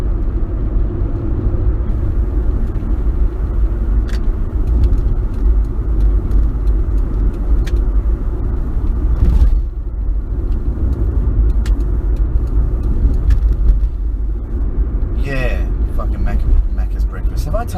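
A car's engine and tyre noise rumble steadily from inside a vehicle driving along a road, loud and continuous throughout. A brief whoosh of a passing vehicle is heard partway through.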